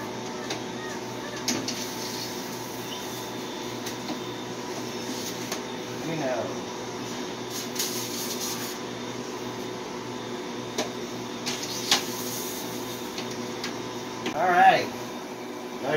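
A freeze dryer loaded with trays of sausage and eggs runs with its drain valve closed, giving off a steady low mechanical hum and whir with faint tonal whines that persists for the whole stretch, with occasional small knocks.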